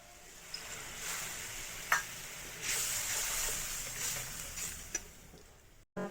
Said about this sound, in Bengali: মশলাটা দিয়ে দিলাম, অল্প জল দিয়ে দিচ্ছি।